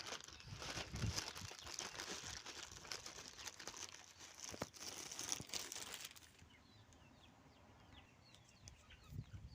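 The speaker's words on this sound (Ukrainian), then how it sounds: "Тепер прийшов час розпакувати ось цей пакет." Plastic parcel package being unwrapped up close, with dense crinkling and tearing rustles for about six seconds, then quieter scattered crackles of plastic being handled, and chickens clucking faintly in the background.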